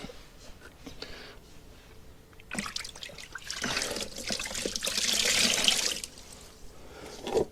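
Water rinsing down the side of a caravan, a faint trickle that swells into a louder rushing spray midway and then eases off.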